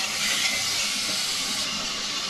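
Chicken sautéing in a pan for murgh cholay, giving a steady, loud hiss of sizzling oil with no break and no talking.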